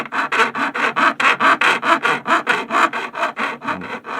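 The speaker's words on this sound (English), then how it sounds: "I tilt the file up until I can feel the teeth starting to cut" A metal file rasps rhythmically across an edge, about fifteen loud, even back-and-forth strokes, close up with no talking.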